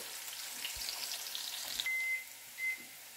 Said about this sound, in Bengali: এখন আপনারা দেখবেন যে রসুনটা লাল হবে না, জাস্ট ভাজা হবে, সামান্য একটু ব্রাউন কালার হবে।